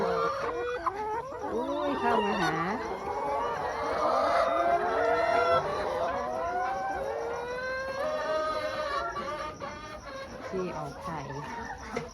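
Hens cluck and squawk continuously at an egg-laying chicken farm, many birds close by making overlapping calls, with someone speaking over them.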